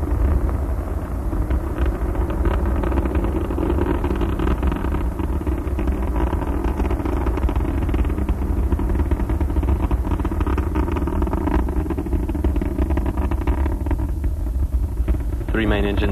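Space Shuttle Atlantis climbs on its three main engines during the STS-44 launch, a steady, dense roar that fills the whole stretch, with a narrator speaking over it.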